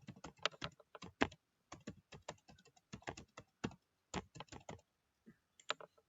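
A computer keyboard clacks in quick irregular bursts of keystrokes as an email address is typed, with short pauses between runs; close, crisp and alone, without speech.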